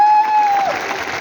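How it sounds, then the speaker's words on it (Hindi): A seminar audience breaks into applause, a short burst of crowd clapping over a lingering sustained tone, loud and close and fading slightly within a second. "इतनी सी तालियां।"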